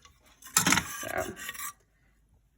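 A rubber scraper drags around the inside of a slow cooker holding thickened Mongolian beef gravy, giving about a second of close, soft rasping scrapes that then stop, with no talk.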